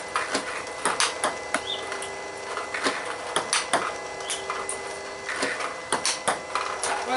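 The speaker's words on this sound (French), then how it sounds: "J'aime bien le bruit que cette plaque fait sur ce bois." Sharp wooden clicks of a table tennis paddle, rubber on a wooden blade, hitting the ball with chop strokes, repeated at an irregular rally pace over a busy background of room noise.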